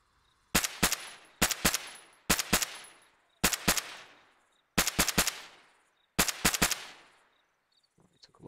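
Gunfire in the video game ARMA 3, six closely spaced bursts of two or three loud shots each, every burst trailing off in a long echo, ringing out over an otherwise quiet background.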